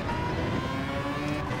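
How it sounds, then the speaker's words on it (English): A Mazda 787B race car in a racing game rumbles steadily nearby with a sustained mechanical drone, moderately quiet and alone. "Go down the inside of the 787B, making just as good a noise as us."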